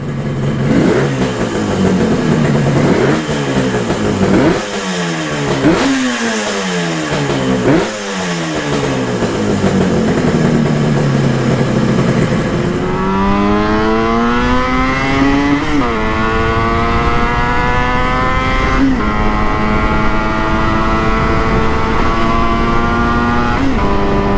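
An old two-stroke motorcycle engine revving hard, close and loud, with repeated sharp rise-and-fall revs that give way to a sustained higher whine holding and climbing.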